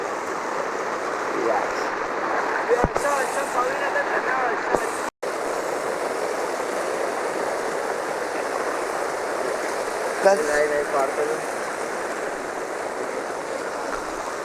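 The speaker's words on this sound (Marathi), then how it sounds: "फुल नदी आहे" A full river flowing at a village crossing, a constant close rushing wash of water that fills the whole stretch, with a few brief knocks and some faint voices.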